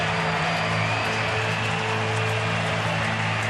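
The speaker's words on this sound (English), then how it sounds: "the big crowd on its feet" A big baseball stadium crowd at a Braves vs Phillies game roars and applauds steadily, a dense, continuous wash of cheering and clapping that holds at a constant level without pause.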